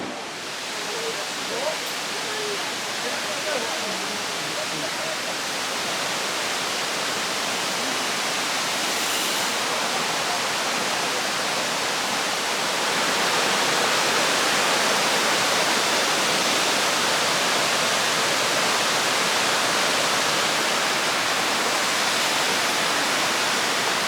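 Rushing water pours steadily at the top of Dunn's River Falls, a loud, dense, continuous roar that grows slightly stronger partway through, with no break in the flow.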